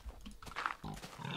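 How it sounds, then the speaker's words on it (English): A pig oinks in the Minecraft video game, a few short close grunting snorts in quick succession at moderate loudness, with no talk over them. "I hear a pig."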